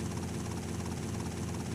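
In GTA Vice City Stories, a helicopter's engine and rotor drone steadily, a constant, even whir with no talking over it.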